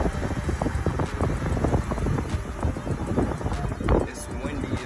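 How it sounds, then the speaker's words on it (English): Strong gusting wind roars and buffets the microphone outdoors during tornado weather in Oklahoma, a continuous loud rush with no letup. "It's windy as hell."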